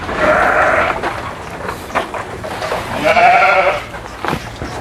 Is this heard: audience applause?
no